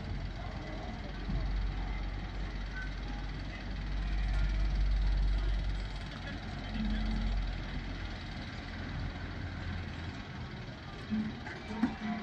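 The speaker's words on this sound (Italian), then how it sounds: "Qui sta arrivando il terzo camion a rimorchio." A truck with a trailer's deep engine rumble swells and holds steady, growing louder as it draws near, with faint outdoor noise around it, arriving with cattle in Limonetto, Italy.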